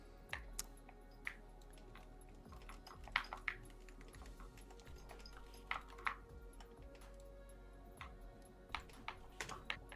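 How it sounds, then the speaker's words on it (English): A computer keyboard clacks steadily through a live stream, with irregular bursts of soft key taps and occasional sharper strikes, close but quiet, over a low steady hum. "I've been digging the ASMR aspect of streams where you can hear the keyboard in the background."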